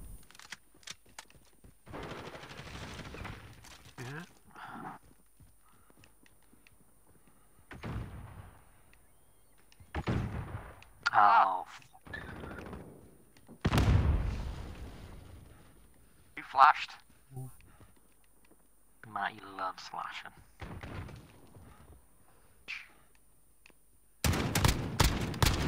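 Shotgun blasts go off in the video game Modern Warfare as sharp, scattered booming bursts, a few loud and close, among quieter game noises while players talk.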